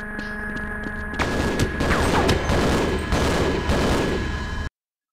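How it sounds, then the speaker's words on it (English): Gunfire from the video game Half-Life: a dense volley of sharp shots fires repeatedly across about three and a half seconds over a steady background hum, ending abruptly in silence. "Don't shoot me. Stop shooting me."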